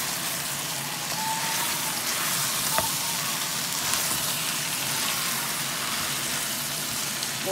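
Chicken fries in its own rendered fat with no oil added, a steady broad sizzle that crackles evenly throughout with one or two sharper pops and no talking.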